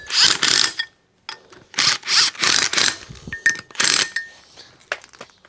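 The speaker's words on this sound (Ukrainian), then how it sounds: "давайте, щоб швидше було, ми візьмемо гайковерт" Bursts of an impact wrench driving 13 mm nuts while a Kentavr 40-1C/G tiller is assembled: several loud, close rattling runs separated by short pauses and faint clinks.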